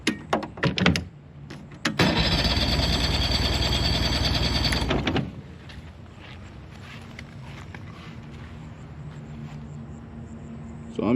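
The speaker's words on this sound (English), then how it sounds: "So next we're going to turn over the engine." A used two-stroke outboard engine is turned over for a compression check, giving a loud, steady, rhythmic churning burst of about three seconds, then a faint background hiss.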